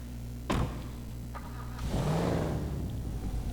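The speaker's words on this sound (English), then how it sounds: "I like the noise of the engine. Maybe I should quickly turn it on." A Fugitive sedan in GTA Online clunks, cranks and its engine catches, then revs up into a loud, rising, steady idle roar close by.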